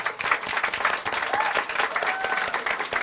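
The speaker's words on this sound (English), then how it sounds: "big round of applause for our speakers" An evening showcase audience gives a sustained round of applause for the speakers, dense crowd clapping heard at moderate distance with a faint voice or two beneath.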